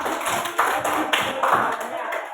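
A group claps hands together in a brisk, busy burst, fairly close and loud, filling the room.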